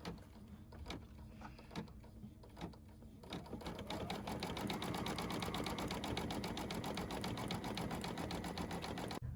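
A sewing machine runs an applique stitch on a pet stocking, starting with a few separate clicks and thumps, then settling into a steady, loud, rapid mechanical chatter that continues to the end.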